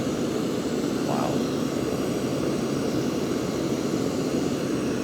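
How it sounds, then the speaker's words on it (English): MSR PocketRocket backpacking stove burning at full output, a loud, steady roaring hiss like a small jet that continues without a break. "PocketRocket feels like literally an actual rocket about to take off. Very, very loud."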